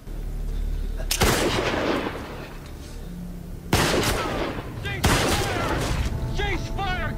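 Heavy bursts of rifle and machine gun fire from the World War II battle of Okinawa in a war drama, three loud sharp volleys, each fading into rattling echoes, with people talking between them.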